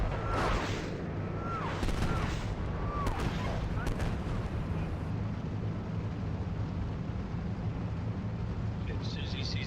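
Incoming artillery and gunfire in the tank simulator Steel Beasts Pro PE: several heavy booms and cracks land early, then a steady low rumble of engines and battle noise continues, with voices talking over it.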